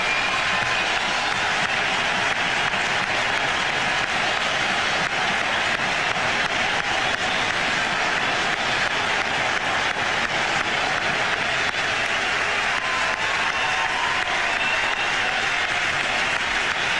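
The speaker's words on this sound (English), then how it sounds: "Tremendous ovation here from the crowd" A packed cricket stadium roars in a long, steady ovation for Sachin Tendulkar's one-day international century, thick continuous applause and crowd noise holding at an even level with no break.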